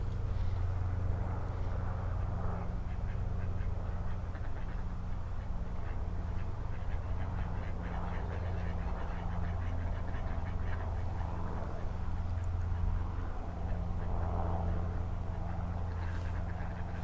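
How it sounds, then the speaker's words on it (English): Ducks quack in a group of four males and one female, with faint, scattered calls set against a constant low outdoor rumble, with no talk. "4 male ducks and 1 female"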